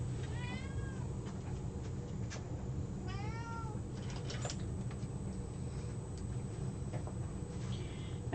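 A studio cat meows twice, faint and drawn out, over a steady background hiss with occasional small clicks.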